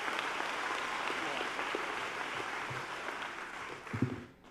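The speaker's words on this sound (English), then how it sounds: "Can I get another round of applause?" A graduation audience applauds steadily at a school ceremony, a sustained crowd of clapping hands that tapers off with a few louder thumps near the end.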